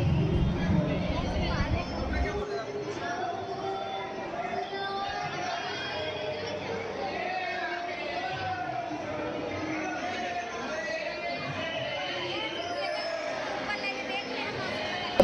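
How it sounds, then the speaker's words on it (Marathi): Steady crowd chatter fills the grounds of Prem Mandir temple in Vrindavan at night, a dense murmur of many voices continuing throughout. Someone speaks up close over it. "गर्दी तर इतकी राहते का, खूपच गर्दी राहते।"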